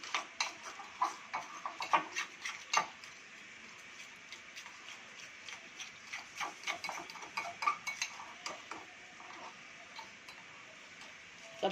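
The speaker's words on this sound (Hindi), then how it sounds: "ये डाल के सब अच्छी तरीके से मिक्स करना है हमें।" Fish masala, tikka masala and crushed coriander being mixed in a bowl for restaurant-style fried fish: quiet, irregular clicking and tapping of a utensil against the bowl, fairly faint and steady, with no talk.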